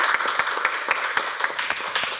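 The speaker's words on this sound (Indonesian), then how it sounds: "Tepuk tangan sekali lagi untuk Bapak Jimmy untuk waktunya." Scattered applause for a guest speaker at a corporate sharing session, a smallish group clapping unevenly with distinct individual claps audible, steady at moderate level for a couple of seconds.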